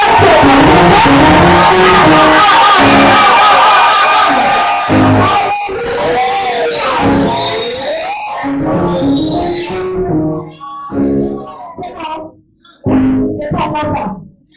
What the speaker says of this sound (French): tu vas pousser les cris de joie, tu vas célébrer le Seigneur